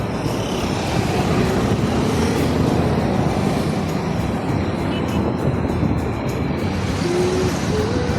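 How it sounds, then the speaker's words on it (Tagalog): Steady street traffic noise in a UAE city, a continuous broadband wash of passing vehicles at moderate distance with no voices and no distinct single pass-by. "Traffic."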